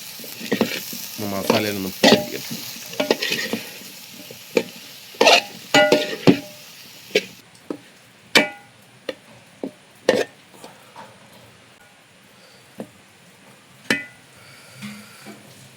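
Cauliflower stirred into frying masala in a pan for a curry: busy sizzling and scraping with repeated metal clinks of the spoon against the pan, fading to sparse knocks as the stirring slows.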